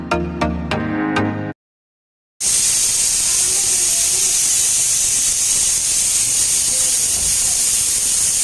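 Steady, loud hiss of a pressure cooker cooking spicy mutton curry, a continuous broadband steam rush lasting several seconds after a brief silence, preceded by a short burst of rhythmic sound.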